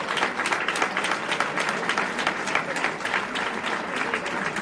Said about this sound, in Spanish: un aplauso a la plataforma